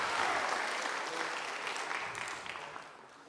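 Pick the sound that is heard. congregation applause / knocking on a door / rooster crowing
congregation applause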